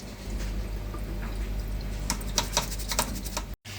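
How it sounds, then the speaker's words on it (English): Rice water drained through a sieve, a faint splashing pour under a low background hum, followed by a quick series of sharp drips and taps before a brief cut. "So we're straining it in a sieve."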